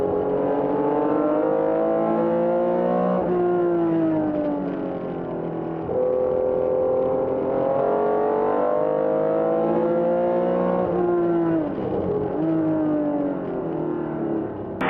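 Vintage race cars, including a 1974 Porsche 911 RSR, lapping Laguna Seca's Corkscrew during a Rolex Reunion race: several engines whine and rev in overlapping rising and falling tones, shifting gears repeatedly at moderate distance.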